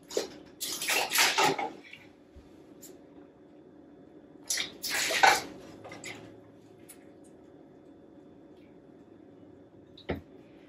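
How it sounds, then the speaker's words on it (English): Cucumbers go into a pot of simmering vinegar and water for sweet pickles, making two short bursts of splashing and clatter, followed by a quiet simmer and a single faint click near the end. "now that my water and vinegar have come to a simmer, I'm going to add my cucumbers"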